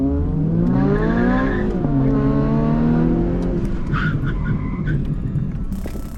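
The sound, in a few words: old Honda-powered Mini and new turbo Mini accelerating in a drag race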